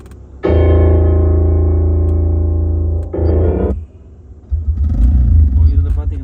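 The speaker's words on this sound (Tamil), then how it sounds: "இப்போ இதில் பார்த்தீங்கன்னா ஒரு டூ வீலர் ஓட்டுற பைக் சவுண்ட் அது." Recorded motorcycle engine sound played through the audio system of a Skoda Rapid car, a loud sustained droning tone that cuts off, returns briefly, then gives way to rumbling mixed with talk.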